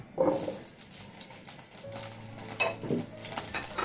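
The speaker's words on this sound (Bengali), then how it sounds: "এখন আমি হাফ সিদ্ধ করা যে আলু এবং ফুলকপি আছে, সেগুলো একটু ভেজে নেব।" Half-boiled potatoes and cauliflower fry in soybean oil with a soft continuous sizzle, broken by a few scraping stirs and clinks of a spatula in the pan, close but fairly quiet.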